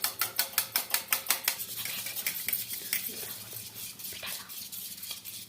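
Three eggs with salt and pepper are whisked in a bowl, a rapid rhythmic clatter of utensil against the bowl that starts loud and quick, then slows and softens into lighter scraping.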